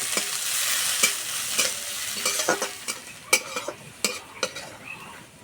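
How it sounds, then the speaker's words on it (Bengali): Sliced onions, green chillies and nigella seeds sizzle loudly in hot oil, with a steady frying hiss broken by repeated scraping stirs of a spatula against the pan. "এই তেলে দেবো কালো জিরে, কোচানো পেঁয়াজ, কোচানো কাঁচা লঙ্কা"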